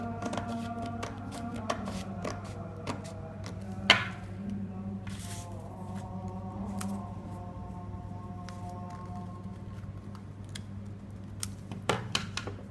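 Scissors cut fabric for a dhoti salwar with soft, irregular snips and rustles close by. A steady hum runs underneath.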